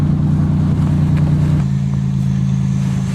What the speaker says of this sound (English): now we gotta see if we can start the stupid Camaro that's in the way